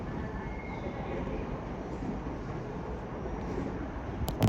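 An LNER Azuma train pulls out of Doncaster on the East Coast Main Line, a continuous rumbling wash of rail and motor noise with some wind buffeting on the microphone.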